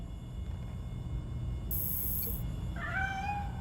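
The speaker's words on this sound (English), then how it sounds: "Is that a cat?" A cat in the Gotham Knights video game gives a single clear meow near the end, heard alone over a low, steady rumbling background.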